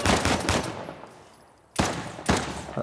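Pistol shots in the video game Uncharted The Lost Legacy: a few sharp, loud cracks, with a cluster at the start and then two single shots spaced about half a second apart after a quieter gap.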